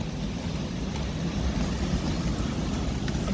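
Wind gusts over the coast before Storm Dennis, a constant loud rumbling roar buffeting close by with steady surging low noise and no voices.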